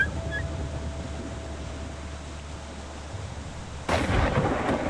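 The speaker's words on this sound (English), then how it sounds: "Thunderstorm." Thunderstorm in the video game WolfQuest: steady rain hiss and a low rumble, then a sudden loud thunderclap near the end.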